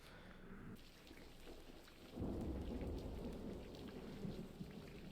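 Storm ambience in the video game Corpse Party: steady rain hisses throughout, then a low rumble of thunder swells in and rolls on, with no talk.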